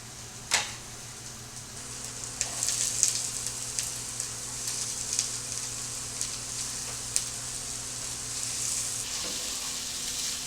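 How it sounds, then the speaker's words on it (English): Onions sizzle steadily in a hot skillet, with crackling pops and a few sharp clatters from stirring. The sound stays close and continuous. "We're going to go ahead and add the onions to our skillet."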